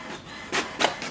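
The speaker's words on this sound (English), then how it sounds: "our printer is working and it is printing as well" HP Smart Tank 7301 printer running off a status report, heard as three short bursts of mechanical whirring from the print carriage at close range, separated by brief quieter gaps.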